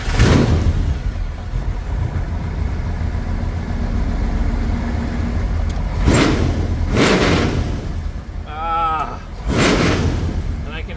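A 1964 Plymouth Fury engine idles with a loud rumble, broken by several sharp throttle blips that swell into brief revs, and a voice speaks briefly between them.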